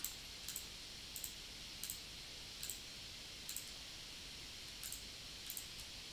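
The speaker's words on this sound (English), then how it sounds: "we'll select all these edges by clicking them." Computer mouse clicks as edges of a 3D model are selected in CAD software, about nine sharp, faint, evenly spaced clicks over a steady hiss, with no talking.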